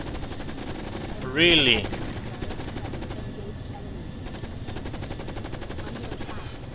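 In a first-person shooter game, rapid automatic gunfire rattles steadily throughout, with a brief loud metallic whine partway in and a player's voice speaking over the shooting.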